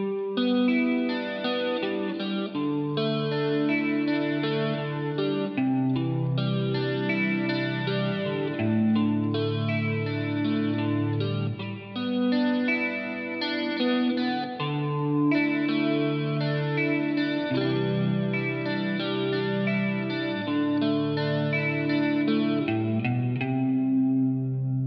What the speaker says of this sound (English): Now if we put some chorus into it and a bit more reverb,